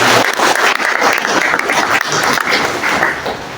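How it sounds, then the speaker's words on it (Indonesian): Vigorous applause from an audience at a cooperative's written exam event for new employees, loud and continuous clapping that thins slightly toward the end. "Tepuk tangan dulu untuk lembaga."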